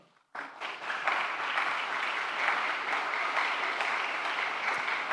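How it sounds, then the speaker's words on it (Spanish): Church congregation bursts into applause for the children's teachers, starting abruptly and holding as a dense, loud, steady wash of clapping for several seconds. "Le damos un aplauso a ellos"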